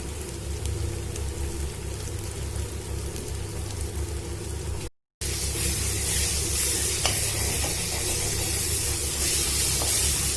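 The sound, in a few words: ginger garlic paste frying with onions in a pan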